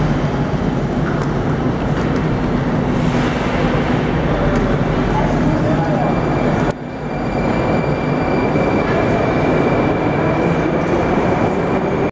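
A Moscow metro train at Komsomolskaya station, a 1935 palace-like stop, fills the space with a loud, steady rumble and roar of cars rolling through, a brief dip midway, then continuing.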